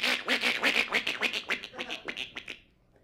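A comedian imitates a North American goose call with his voice, a fast string of loud, nasal honks close to the microphone that fade out at the end.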